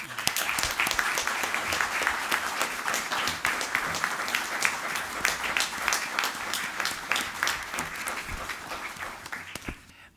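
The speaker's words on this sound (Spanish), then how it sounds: "recibe nuestro aplauso y nuestra felicitación" Sustained applause from an audience at an institutional anniversary ceremony of a Spanish economic society, a dense steady wash of many hands clapping that fades slightly at the end; no talk over it.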